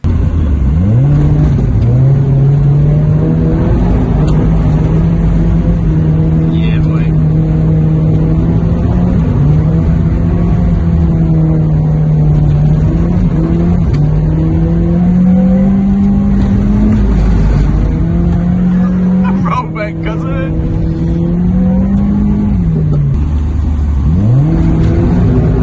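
Mazda Miata with a welded differential spinning donuts in a small private car park, its engine droning loud and steady with repeated revving swells and dips throughout, close to the listener and with no voices.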